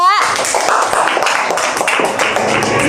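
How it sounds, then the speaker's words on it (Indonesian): A classroom of children claps for a group of students, a quick burst of sharp, uneven hand claps close by, with a brief tonal voice at the start and scattered chatter underneath. "Tepuk tangan untuk kelompok 2."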